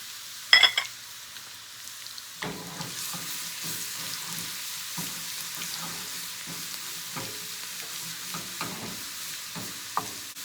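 Garlic dropped into very hot oil, a sharp clatter then a steady bright sizzle close by, with intermittent stirring scrapes and light crackles throughout.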